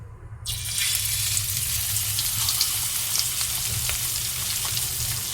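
Fish dropped into hot oil in a pan erupts into a loud, steady sizzle with crackling pops, continuous and close throughout.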